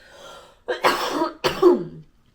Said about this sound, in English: I'm sorry, I'm getting over my coughing